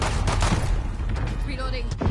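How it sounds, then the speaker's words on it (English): Rapid bursts of video game gunfire crackle loudly and continuously across a short firefight, with faint voices mixed underneath. "I'm taking fire."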